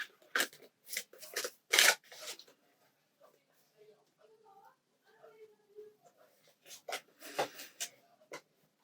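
Tarot cards are shuffled by hand in bursts of crisp riffling and flicking, loud and close, with a quieter stretch of soft handling between them and no talking.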